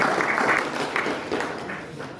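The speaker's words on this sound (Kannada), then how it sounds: "ಈ ಚಪ್ಪಾಳೆ ಹೊಡೆದಿದ್ದು ನೋಡಿದ್ರೆ ನನ್ನ ಭಾಷೆ ಮುಗಿತಂತ ಬರ್ತದೆ." Audience clapping in an assembly hall after a spoken greeting at a public talk, a dense steady patter of many hands that holds fairly loud throughout, then eases slightly toward the end.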